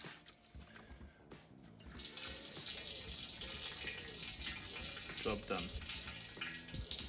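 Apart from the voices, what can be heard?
water draining out of a repurposed bell housing basin after the plug is pulled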